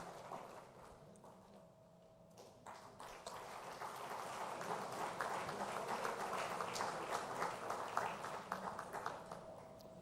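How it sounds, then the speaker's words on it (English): Audience applause at an awards function rises steadily from scattered clapping into a fuller, sustained ovation heard from within the hall, with no talk over it. "Let's give him a big round of applause"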